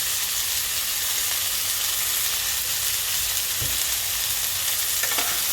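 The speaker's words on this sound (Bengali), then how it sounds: "আলুটাকে ভাজা বসিয়ে দিলাম" Potato pieces frying in hot oil make a loud, dense, continuous sizzle up close, with a couple of brief knocks near the end and no voices.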